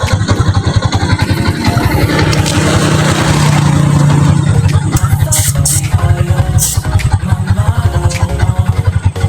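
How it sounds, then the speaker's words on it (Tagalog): A motorcycle engine runs close by, holding a loud, steady throb with a slight rise in revs partway through and sharp clicks over it. "palagangin ka motor"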